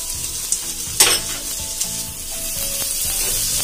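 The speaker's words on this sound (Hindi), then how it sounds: "अब मैं इसमें डाइस किए हुए टोमेटो डालूंगी, ये ऑप्शनल है।" Diced tomatoes sizzling in a hot pan of buttery lobiya chaat, a steady loud fry with a brief splashy burst as they go in and occasional stirring scrapes.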